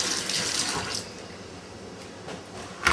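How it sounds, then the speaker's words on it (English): Tap water streams steadily into a sink while ladyfish fillets are rinsed of scales, a close, continuous hiss that eases slightly midway, with a brief splash near the end and no talking. "just rinse them out"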